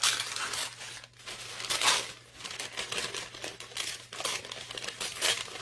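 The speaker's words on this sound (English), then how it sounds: "Simply going to tear them from the paper." Printed musical notes being torn from paper, close-up crinkling and ripping in several short bursts with brief pauses between, fairly quiet, no voices.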